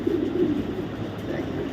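Female foreign racing pigeon cooing softly nearby, a couple of low throaty coos over a quiet background, with a voice talking faintly.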